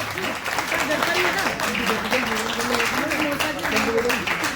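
Crowd applause at a Sanskar Bharti arts event patters steadily throughout while a voice talks loudly over it in Hindi.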